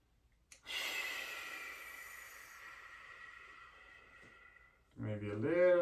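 A long, audible exhale rushes out steadily for several seconds during a Foundation Training yoga exercise for SI joint instability, close and soft, before a voice starts speaking at the end.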